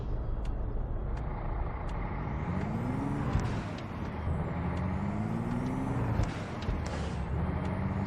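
Continuous low truck engine drone from the game American Truck Simulator with rising and falling revs and brief clicks, steady and loud throughout with no talking.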